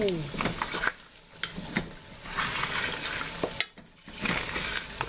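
Homemade cracklins frying in a pot, a steady sizzle and bubbling with scattered stirring clatter and short pops, loud and close, with a voice speaking now and then over the cooking.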